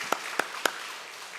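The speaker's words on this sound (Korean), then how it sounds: "우리를 새 사람 되게 하시는 하나님께 감사와 영광의 박수를 올리겠습니다" A church congregation applauds during a Wednesday worship service; only three faint, sharp claps come through, evenly spaced, then soft room tone.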